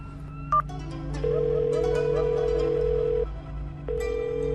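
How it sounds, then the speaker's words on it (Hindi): An unanswered phone call gives a steady electronic ringing tone heard through the handset, one long burst, a short gap, then another, over a low hum with no speech. "बेल तो जा रही है पर कोई उठा नहीं रहा है।"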